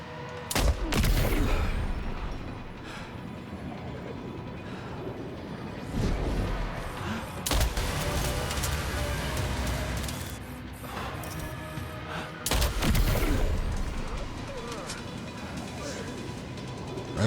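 Repeated gunfire bursts in the video game Death Stranding 2, with loud sharp shots at the start and again around the middle and late, over a continuous busy game soundscape; someone talks in between.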